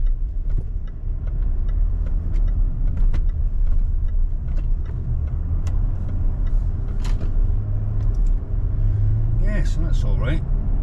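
A Range Rover L405 driving on a road after wheel bearing work, heard from the cabin as a steady low rumble of engine and tyres picking up a little speed, with someone talking over it throughout.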